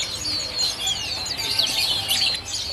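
Prenjak birds kept in cages at the Pramuka bird market in Jakarta chirp and trill continuously, several high, bright calls overlapping close by against a low market murmur.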